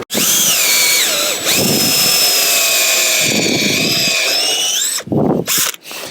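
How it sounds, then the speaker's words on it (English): A power drill whines loudly and steadily for several seconds while drilling stud holes in a moulded car mat, pitch shifting slightly, then cuts out with a few short bursts at the end. "I'm just going to drill those out now to make room for the studs"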